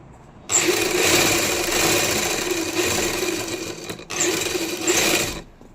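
Sewing machine double-stitching the shoulder seam of a lined kameez: a continuous fast whirring run, a short pause, then a second burst, close and steady with no talking.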